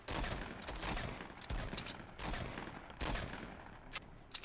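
Gunshots in the video game Fortnite crack in rapid bursts, several shots close together with brief pauses between volleys, fairly quiet overall.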